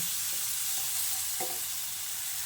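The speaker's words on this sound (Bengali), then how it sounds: "তারপর ঢাকাটা খুলে আবারও ভালো করে নেড়ে চেড়ে নিচ্ছি" A spoon stirs a soft, spiced tomato masala in a hot pan for a potato dish, giving a steady close sizzle with faint scraping strokes and no voices.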